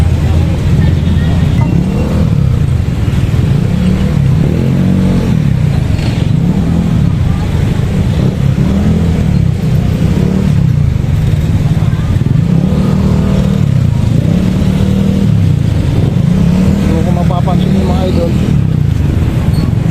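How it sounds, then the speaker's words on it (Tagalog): Cars and motorcycles pass steadily through the town proper of Baliwag, Bulacan, a loud, continuous engine rumble that rises and falls in waves as vehicles go by, close to the listener, with someone talking over it. "Dito po ang volume ng mga sasakyan na yan."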